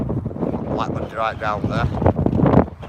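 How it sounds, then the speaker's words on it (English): Heavy wind buffets the microphone with a constant low roar while someone talks through it. "Sorry for the wind, guys, bear with me."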